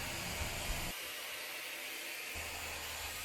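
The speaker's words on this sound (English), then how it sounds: "What I like about the Shark blow dry brush is that it's quite big so we can handle a little more hair." Shark blow dry brush blowing air while styling hair, a steady loud whooshing hum that dips to a quieter, thinner tone for about a second and a half before returning to full airflow.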